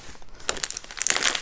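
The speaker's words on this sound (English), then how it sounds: "Let's put the plastic bag over there." Plastic wrapping from a Diamond Art Club painting kit crinkles and rustles in short bursts as it is handled and set aside during unboxing, fairly close and moderately loud, with no talking.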